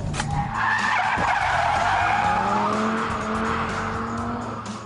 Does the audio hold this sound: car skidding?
yes